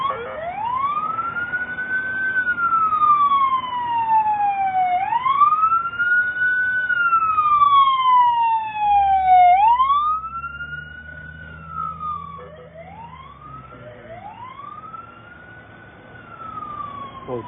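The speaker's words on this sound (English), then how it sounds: "Sounds like the ambulance." An ambulance siren wails through thick traffic, rising and falling in long sweeping cycles, loud and close; a low vehicle rumble joins partway through as the siren continues alone with no talk.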